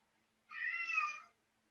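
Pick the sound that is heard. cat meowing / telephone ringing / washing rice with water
cat meowing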